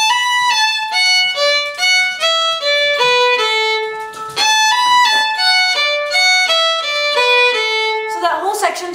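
Fiddle playing a smooth slurred melodic passage, close and clear, notes connected in a flowing run, a brief scratchy bow noise at the end, no talk.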